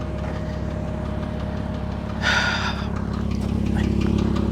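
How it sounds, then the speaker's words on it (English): A Porsche Cayman S engine and exhaust running in a steady, low, continuous rumble at idle, close by, with a brief airy hiss partway through. "The exhaust, nice and smooth."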